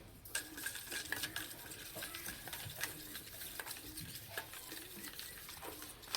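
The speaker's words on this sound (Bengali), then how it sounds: "এখানে 1 বাটি সুজি নিয়েছি, অল্প অল্প দেবো আর মেশাতে থাকবো" Semolina is stirred a little at a time into a batter in a bowl, giving a quiet, continuous scraping and clicking of a spoon against the bowl at a steady rhythm.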